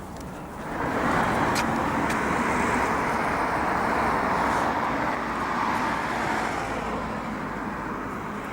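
Light Sunday road traffic beside the River Clyde at the Broomielaw in Glasgow, a steady wash of passing cars under a continuous roadway hum, moderately loud and fairly even throughout with no talking.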